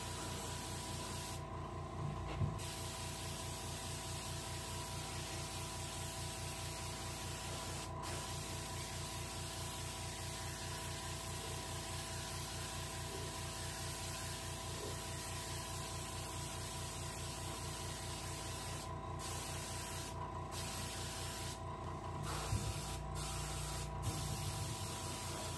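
Aerosol spray paint hisses steadily onto a rainbow trout being finished for taxidermy, a near, continuous spray broken by a few brief pauses, with no talking.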